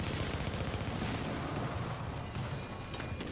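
Dense rapid gunfire from the Striker weapon in a shooter game, a continuous loud rattle of shots filling the whole moment with no pause.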